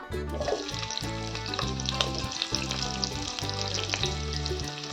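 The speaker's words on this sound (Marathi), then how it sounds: "यात टाकूया आपण एक चम्मच तेल यात टाकूया आपण कांदा" Onion and garlic hit hot oil in a pan for a rustic gram-leaf vegetable dish, giving a continuous sizzle and crackle over a layer of steady background music.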